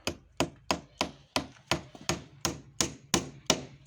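Steady hammering of nails into wooden boards while building a chicken coop, about ten crisp, evenly spaced blows with a short woody ring after each, close by and with no talk.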